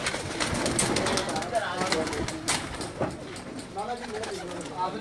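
Pigeons coo in a caged pigeon-flying gathering, soft repeated coos mixed with fluttering and crowd noise while people talk loudly nearby throughout.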